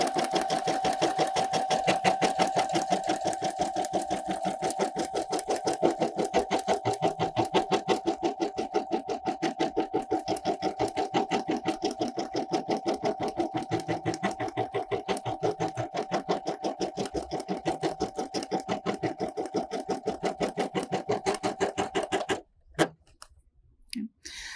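A Brother embroidery machine stitches freestanding lace in a fast, even, unbroken rhythm of needle strokes with a steady motor whine, running alone for over twenty seconds before stopping abruptly near the end.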